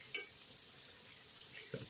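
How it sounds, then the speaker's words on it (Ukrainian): Quiet steady sizzling of cabbage pies frying in a pan, with a few faint clinks and scrapes of utensils. "І смажу з однієї сторони до готовності."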